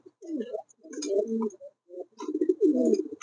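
Show-quality king pigeons coo close by in a few soft, throaty, rolling bursts separated by short pauses, with no talking.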